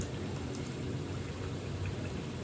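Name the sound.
water draining from double tub washing machine spin dryer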